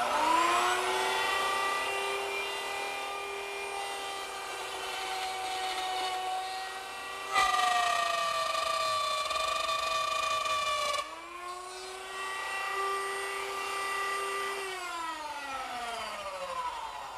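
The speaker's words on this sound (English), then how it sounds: "I use the same router setup with a stop block in a new position and a reference line to plunge down into the router bit" Plunge router cutting a mortise into a wooden table leg, a loud high-pitched whine whose pitch sweeps up and down as the bit spins up, cuts and winds down, heard alone.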